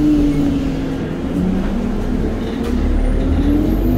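A bus engine drones steadily from inside the cabin, with faint bursts of air-brake hiss over the low rumble and no talking.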